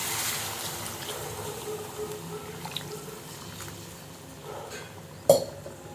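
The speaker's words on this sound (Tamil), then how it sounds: "இப்போ தண்ணி சேர்த்துக்கலாம்" Water trickles and splashes into chicken gravy cooking in a pan, a soft, steady wash of liquid sound with a sharp metallic clink near the end.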